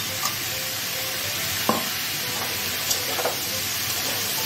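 Potato and green banana pieces with turmeric sizzle steadily in a pan with a low, continuous frying hiss, broken by a few soft clinks of stirring.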